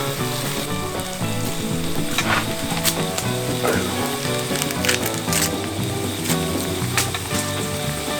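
Dakgalbi chicken stir-frying on a hot cast-iron pot lid: loud, close, continuous sizzling with scraping and stirring clatter from the utensils throughout.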